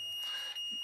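A multimeter in diode-test mode beeps across a faulty diode in a Kustom Sienna 35 guitar amplifier during repair, giving a single steady high-pitched tone that holds for most of the moment with faint background noise.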